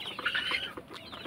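Cock chickens on a poultry farm giving short clucking calls, several quick overlapping sounds at moderate distance.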